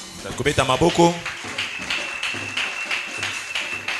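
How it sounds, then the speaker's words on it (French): Church congregation applauding and calling out acclamations after a prayer, a burst of voices and clapping up front, then lighter scattered clapping with a steady tone continuing behind. "On peut s'asseoir sous vos acclamations."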